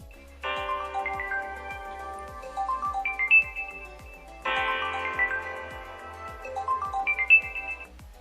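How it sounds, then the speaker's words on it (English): A DOOGEE V20 rugged phone rings with an incoming call: a bright melodic ringtone plays twice, each phrase a run of chiming tones over a steady ticking pulse, close and clear with no talk. "And here a test with an in-call where you then can accept or reject."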